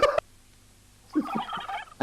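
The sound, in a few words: turkey gobbling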